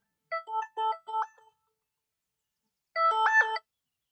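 A phone rings with a short electronic ringtone: a burst of four quick tonal beeps, a pause, then a brighter warbling chime, clear and alone with no talk.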